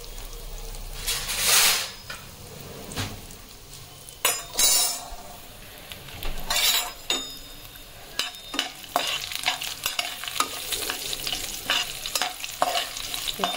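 Asafoetida (hing) frying in hot oil in a pan, with bursts of sizzling and clinking stirring strokes from a utensil against the pan, several loud scraping stirs spaced between quieter crackling.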